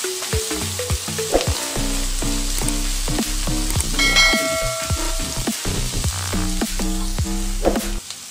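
Onions fry for egg podimas in a pan, sizzling steadily throughout with repeated stirring clinks and scrapes, close and fairly loud, no voices.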